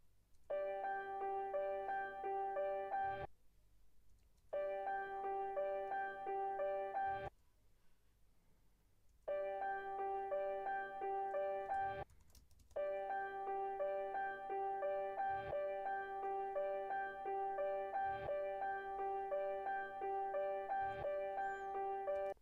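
A piano sample from a song, reversed back to forward, plays a sustained, chiming chordal pattern with rhythmic pulses and a few brief gaps, steady and moderately quiet.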